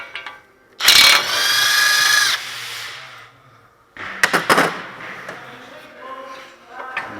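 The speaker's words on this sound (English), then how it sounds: "Take the axle nut off." A power ratchet removes the front axle nut on a Toyota Tundra, whirring in two loud bursts, close by, separated by a short pause, with clicking and mechanical clatter in the second burst.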